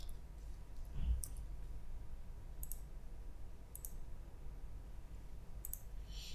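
Computer mouse clicks while setting up a simulation in PSpice circuit software, about four sharp, faint clicks, some doubled, spaced irregularly over a quiet background hum with no talking.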